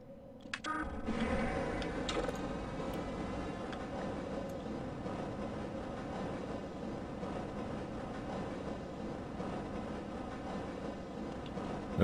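A tram in the video game Prisoner of Event starts up with a sudden clunk, then rolls on with a steady low rumble and faint mechanical ticking, heard alone without talk.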